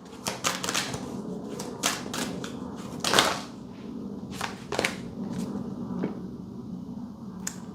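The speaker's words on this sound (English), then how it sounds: "I'm going to reshuffle that." Tarot cards being reshuffled by hand, a run of crisp riffling flicks and soft slaps in short bursts, close and moderately loud, with no talking over them.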